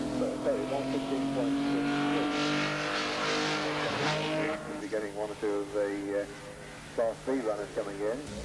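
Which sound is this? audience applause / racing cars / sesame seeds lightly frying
racing cars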